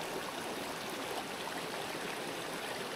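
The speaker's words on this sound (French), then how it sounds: "Alors c'est un ruisseau que je commence à connaître pas trop mal." Small mountain trout stream flowing steadily over rocks, a constant broadband rush and trickle, close and even throughout with no talk.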